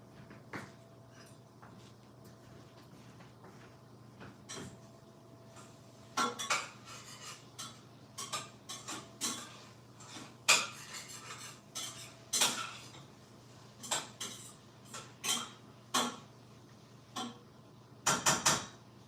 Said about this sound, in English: I need to go stir the mushrooms and onions.